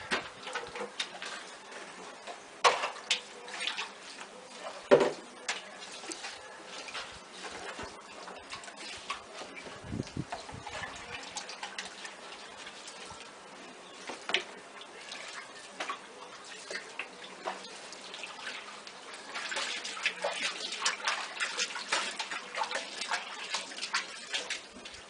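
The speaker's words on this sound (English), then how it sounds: "I'm going to pan that right across the way. In this other tub where we still got some clean water." Gold prospecting material swirled and panned in a tub of clean water, giving continuous sloshing and scattered trickles with gritty clicks, somewhat distant and steady, growing busier toward the end.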